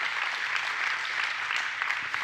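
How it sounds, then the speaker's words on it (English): A church congregation applauds, a dense and steady wash of many hands clapping together that fills the room at an even loudness throughout. "we're going to erase the clapping out of the tape so they don't hear this"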